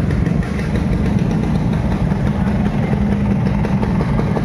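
Many motorcycle engines idle together in heavy street traffic near a truck dealer area in Parañaque, a steady, close, low rumbling drone that holds without pause.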